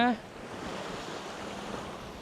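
Sea waves wash on the shore during coastal squid fishing, a soft, steady surf hiss with faint wind, close but quiet, after a brief voice at the very start.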